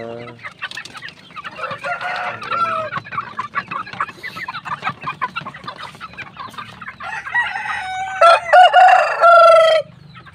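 Hens cluck and a rooster crows among pet chickens kept outdoors in a farm range area, busy overlapping clucks throughout, with loud, drawn-out crows rising near the end.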